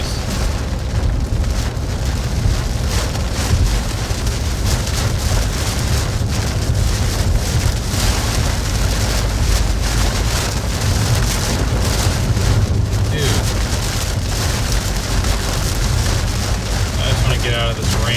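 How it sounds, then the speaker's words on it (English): Heavy rain falls during a storm chase near a tornado in Hubbell, Nebraska, a dense, loud, continuous hiss and rumble of downpour and wind battering close by for the whole stretch. "Get out of this rain."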